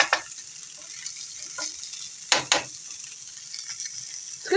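Breaded food fries in a pan with a steady soft sizzle, broken by a few sharper crackles and clinks as pieces are moved or turned, heard close with no talking.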